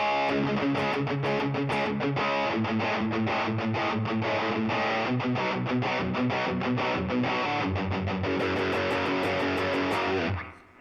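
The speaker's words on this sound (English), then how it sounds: "I really will do like a Klon with the Zen drive to get some really good distortion, really overdriven sound" Electric guitar played through Klon and Zen Drive overdrive models on a Line 6 Helix Stadium, with thick distorted chords and riffs that ring loud and continuous for about ten seconds and then stop abruptly.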